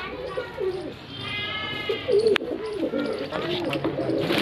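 Pigeons offered for sale coo in repeated soft, throaty phrases close by, while someone talks over them and a sharp click cuts in briefly.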